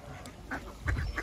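Ducks on a seaside boating lake give a few short, fairly faint quacks, clustered near the end of a brief moment of outdoor background noise.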